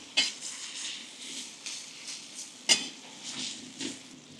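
Bacon frying in a kazan, soft sizzling under a few sharp metallic clinks of a utensil against the pot, fairly quiet and close.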